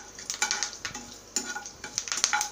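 Mustard seeds, fenugreek and curry leaves fry in sesame oil for a garlic kulambu, a close sizzle broken by several quick scraping stirs of a spoon against the pan, with no talking.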